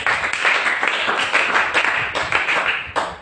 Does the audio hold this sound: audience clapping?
yes